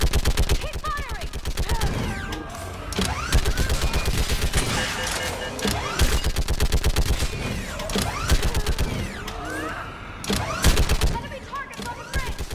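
Dense automatic gunfire and rapid bursts from a sci-fi battle in the video game Mass Effect 3, near and loud, with mechanical clanks and short shouted voices mixed throughout.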